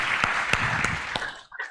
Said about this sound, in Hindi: जोरदार तालियां इस बात पर